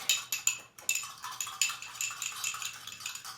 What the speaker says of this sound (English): you just stir it with a fork